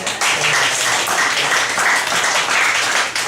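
An audience claps continuously at a church sermon, a dense wash of applause holding steady and fairly loud throughout.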